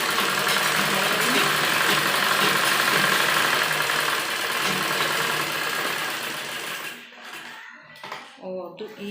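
A sewing machine runs a steady, continuous double line of stitching on a blouse at a fitting seam, close and loud before slowing and stopping near the end, with a few clicks after.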